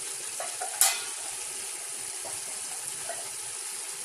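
Tomato masala for chana pulao fries in a pan with a constant low sizzle and one sharp clink of a utensil early on.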